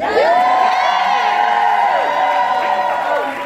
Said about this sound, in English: So clap for these two.